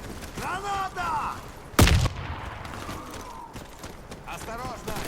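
A grenade blast in a video-game firefight, one loud sharp burst standing out above scattered gunfire and other battle noise, with voices shouting around it.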